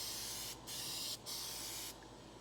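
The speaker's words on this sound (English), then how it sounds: "You don't want to put too much of this 3M aerosol rock guard on at once" 3M aerosol rock guard sprayed onto a new truck bedside being prepped for painting: three steady, close hissing bursts with brief gaps between them, alone without talk.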